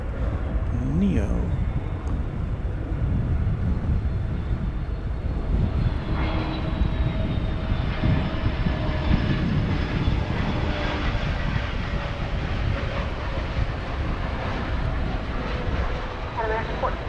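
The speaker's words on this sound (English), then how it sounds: "Our next arrival, flight 1225 from the Valley of the Sun in Phoenix. It's American Airlines A321 Neo." An American Airlines A321neo airliner arriving at Dallas Fort Worth airport gives a sustained jet roar that holds steady and fairly loud throughout, with a voice talking over it and faint whining engine tones rising through the noise.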